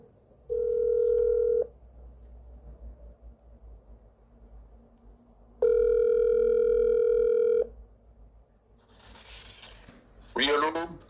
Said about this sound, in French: j'espère que le coup de téléphone va passer facilement.